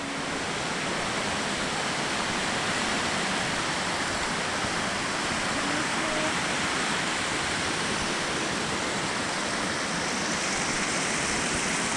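Creek in Umpqua National Forest flowing under a wooden walking bridge, a constant close rushing of water with no talking.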